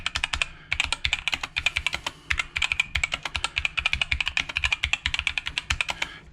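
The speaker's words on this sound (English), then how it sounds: "Just sounds like a bad membrane keyboard to me, honestly." Rapid typing on an Asceny One keyboard with hollow, clacky membrane-like keystrokes in a steady stream, close up, with a short pause near the start.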